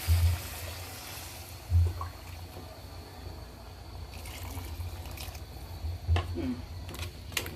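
Water poured into a pot of cooking cow tripe, a continuous splashing, gurgling pour up close, with a few heavier thumps of the pot and vessel along the way.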